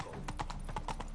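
Horse hooves clip-clop on a path as Roach is ridden in The Witcher 3 video game, a steady run of about eight sharp, close knocks over a low ambient bed, with no talking.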